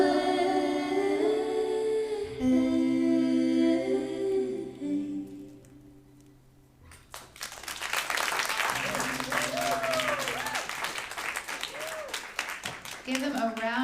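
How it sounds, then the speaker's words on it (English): An audience at an evening performance event breaks into loud, sustained clapping and cheering after a sung passage fades out, with voices calling out over the applause. "Give them a round of applause."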